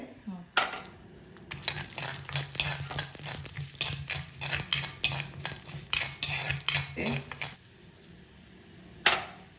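Chana dal and urad dal roasting in a pan, heard as a run of quiet metal spoon scrapes, stirs and clinks against the pan, with faint frying underneath.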